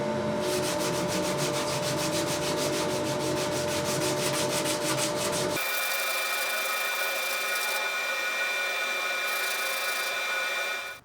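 Sandpaper rubs steadily back and forth over the wooden sides of a handmade acoustic guitar body, leveling uneven edges before the binding channels are cut. The close, loud, rhythmic scratching continues without pause and shifts to a smoother, higher tone halfway through.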